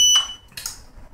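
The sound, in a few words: temperature alarm from an Arduino beer wort cooling controller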